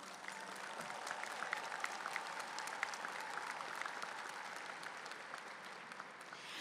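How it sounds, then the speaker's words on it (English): Audience applause at a high school graduation ceremony, a steady, even wash of many hands clapping from a large crowd, heard from a distance. "Let's give a big Lamar Texan round of applause to our family,"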